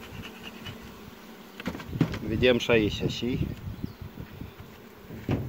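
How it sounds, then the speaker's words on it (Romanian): Honey bees buzz around hive frames and fallen bees at a beekeeper's apiary, a steady insect hum under smoker use, with someone speaking in Romanian over it. "Căzut de pe gratii, niște albine pe jos."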